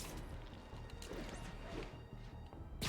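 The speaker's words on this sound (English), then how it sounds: "He's smashing the place up." Rhino crashing through and wrecking his surroundings in Marvel's Spider-Man, a string of heavy smashes and thuds over a steady low game rumble, with a loud impact at the very end.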